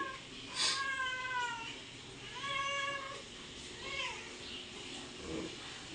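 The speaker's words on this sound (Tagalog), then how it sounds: "Kung sino man nakakakilala sa pusa na ito," Several clear meows from a cat found in a house, with short gaps between the calls and a steady low background hum.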